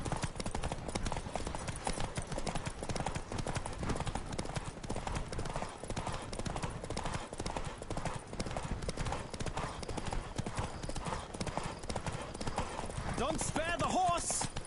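A horse gallops in The Witcher 3, rapid steady hoofbeats throughout, with game voices and effects over it.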